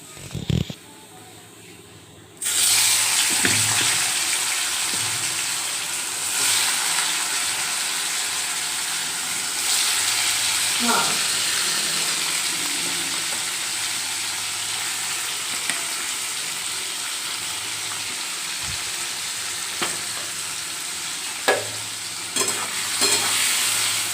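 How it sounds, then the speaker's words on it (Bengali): Paneer cubes frying in hot oil seasoned with salt give a steady, close sizzle throughout, beginning quietly and then jumping to full crackle, with occasional stirring clinks and a few soft voices. "এখন পনিরটা ভেজে নেব।"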